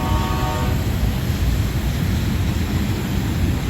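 A long freight train passes close by in a steady, loud rumble and rattle of wagons that lasts throughout, with a brief tonal whine at the start.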